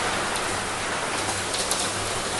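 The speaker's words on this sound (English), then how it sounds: "I think you can hear the rain." Steady rain falling outdoors, a soft even hiss of many drops at moderate distance, continuous and unbroken, with no voices over it.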